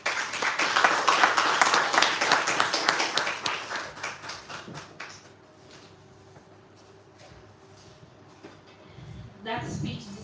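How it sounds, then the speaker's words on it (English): Small audience clapping at a schools debate championship final in Cameroon, fairly loud and dense for about five seconds, then thinning to scattered claps over room noise, with a brief burst near the end. "That speech deserves more than that little clap"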